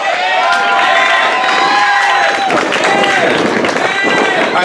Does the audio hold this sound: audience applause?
yes